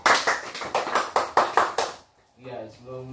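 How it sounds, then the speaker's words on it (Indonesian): A class of pupils claps hands in a steady rhythm of about eight loud, evenly spaced beats, then falls quiet before voices start talking. "Tepuk tangan lu."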